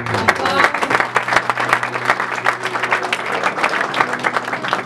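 A congregation at a church service applauds loudly and continuously, a dense wash of close clapping under a steady tone and voices.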